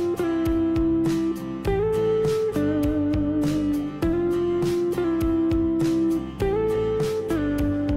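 Electric guitar playing a melodic solo line over a steady backing, with notes sliding smoothly up and down between pitches, loud and continuous with no talking.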